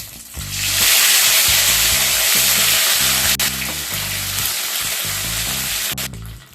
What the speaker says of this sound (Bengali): ফোড়ন ভেজে নেওয়া হয়ে গেলে এর মধ্যে আমি 1 টিস্পুন আদা পেস্ট দিয়ে দিলাম।